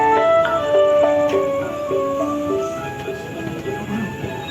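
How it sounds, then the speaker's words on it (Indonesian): A Motis Nataru passenger train pulls into Cirebon Perujakan station in the evening, steady rumbling rolling noise under sustained tonal brake squeal and whines that shift pitch over several seconds, fairly loud and close. "Kereta api Motis Nataru akan segera tiba di stasiun Cirebon Perujakan."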